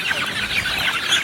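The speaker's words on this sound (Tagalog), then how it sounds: "Ito na ngayon, baby pullets na sila." Young pullets cluck and peep on a hillside farm range, a busy flock chattering close by in overlapping high chirps and soft clucks with no pauses and no speech.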